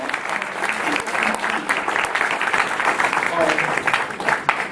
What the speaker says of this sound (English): How about a hand of applause?